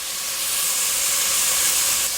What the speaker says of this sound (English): I'm going to let this sear for about 30 seconds on the same heat that I just adjusted it to